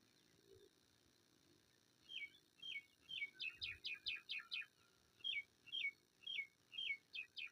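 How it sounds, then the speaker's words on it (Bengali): Small birds call from a rural village, repeating short bright chirps in quick runs, then a pause, then another series, moderately close over a faint outdoor hush. "পাখির ডাক শোনা যাচ্ছে"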